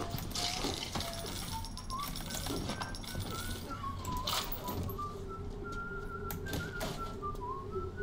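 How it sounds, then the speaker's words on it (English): Someone whistles a wandering tune in BioShock, drifting melodic notes over a low mechanical hum and ambient game noise, moderately near, with occasional clanks and bumps. "Who's whistling?"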